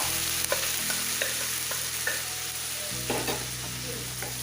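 Masala stirred and fried in oil in a pan, a steady sizzle under repeated scraping and clacking strokes of the spoon, with a constant low hum beneath.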